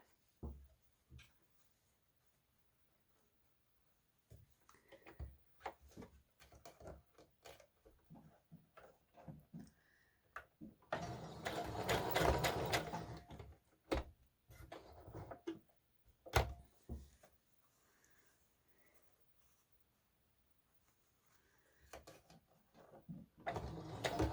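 A home sewing machine stitches lace onto a doll bodice sleeve, running in uneven bursts with a bumpy, labored rhythm as the needle pushes through the thick layers of the last seam, close and fairly quiet with pauses between runs.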